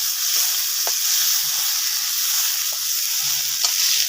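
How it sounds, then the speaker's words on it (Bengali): Spice paste frying in a pan, a steady close hiss and sizzle with a few soft stirring taps scattered through. "এই 5 মিনিট বাটাটা ভালো করে আমি ভেজে নেব।"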